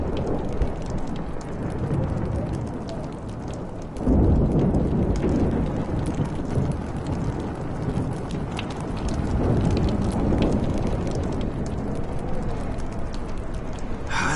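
A thunderstorm in the video game Life Is Strange: heavy rain pours steadily throughout, with a deep thunder rumble swelling in partway and rolling on beneath the downpour.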